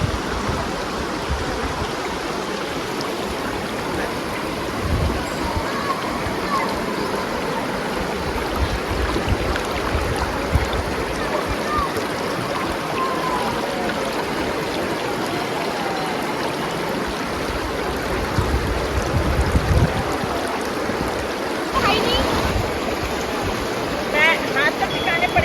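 River water swollen by rain near Garjiya Mata temple in Uttarakhand, a steady, loud rushing flow that runs throughout under people talking.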